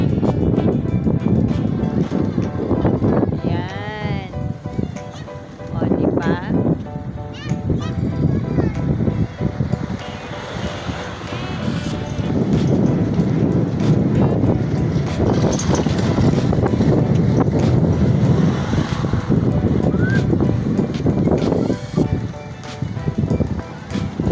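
Strong wind buffets the microphone continuously in heavy, roaring gusts, with a voice talking faintly underneath.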